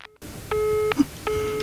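A telephone busy tone follows a rejected call to a city council hotline: two steady, loud electronic beeps separated by a short pause, with a brief click between them.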